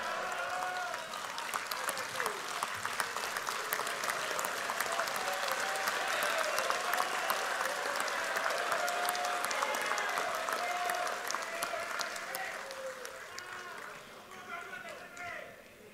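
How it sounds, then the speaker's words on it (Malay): A large audience at a political party presidential address applauds, a long, sustained wave of clapping with shouts and whistles rising through the hall and then fading out near the end. "Tak cukup setakat laungan kalau kita tidak berdiri dan memberikan tepukan pada beliau."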